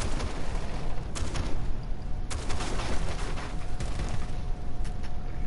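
Shotgun blasts from a first-person shooter game, a few sharp cracks spaced irregularly over a constant dense rumble of in-game noise.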